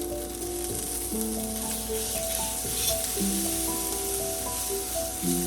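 Onion, garlic and ginger fry in a pan for a Punjabi-style spiced arbi (taro) curry, a soft, continuous sizzle running under gentle background music with no talking.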